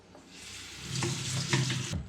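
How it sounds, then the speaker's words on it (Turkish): Water swishes and splashes in a bowl as grains are rinsed by hand, a short close-up burst of sloshing with no voices. "Üzerindeki nişasta katmanını atmak için yıkıyoruz"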